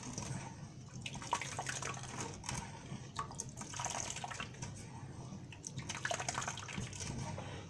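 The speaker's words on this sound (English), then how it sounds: "I'm just juicing the coconut" Liquid from grated coconut pours and drips as juice is squeezed out by hand in a kitchen, coming in irregular splashy bursts at close range.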